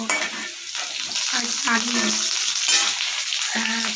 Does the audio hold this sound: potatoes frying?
yes